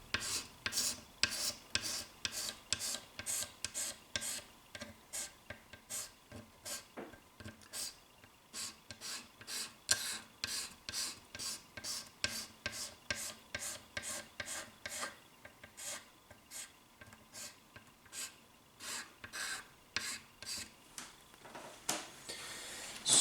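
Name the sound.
scraping Squier Telecaster fretboard back and forth along frets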